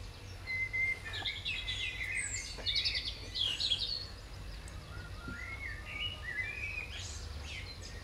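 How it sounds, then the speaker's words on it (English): Several birds sing and chirp in early morning farm countryside, with scattered whistles and twittering phrases at moderate distance over a soft background hum, and no voices. "we heard all the birds singing, which sounded really nice"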